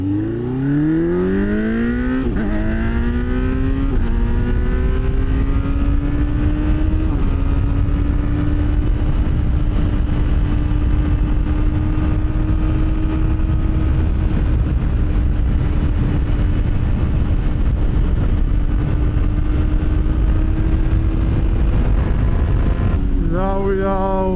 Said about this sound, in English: out on the bike since I've done all the mods, the exhaust, the ECU, the block off plates, everything